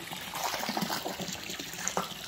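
Water trickles into a pond holding African catfish, a steady, close, splashy wash of running water with no voices.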